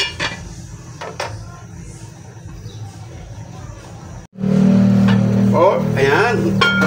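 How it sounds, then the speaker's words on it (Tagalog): A metal lid set back on a pot of steaming siomai, producing a short clank, followed by a loud steady hiss of boiling steam while a person speaks nearby. "Takpan po ulit natin."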